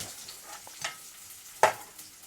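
Seeds crackle and sizzle in hot oil for a potato curry, with faint scattered pops and one sharp louder burst near the end, heard up close with no talking.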